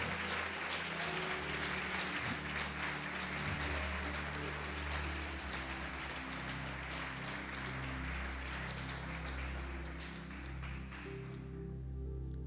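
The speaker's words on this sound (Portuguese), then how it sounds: "Pode aplaudir o Senhor Jesus e glorificar." A church congregation applauds steadily throughout, a dense, sustained wash of clapping with a low musical drone underneath.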